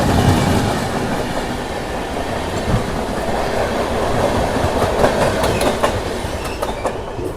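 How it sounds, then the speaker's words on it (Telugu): The AP Express train, running from New Delhi to Visakhapatnam, passes on the adjacent track, heard as a loud, continuous rumble with rhythmic clickety-clack of wheels over rail joints, close by, with no speech. "మన పక్కన వెళ్ళే ట్రైన్ కానీ చూసుకుంటే ఏపీ ఎక్స్ప్రెస్ ట్రైన్"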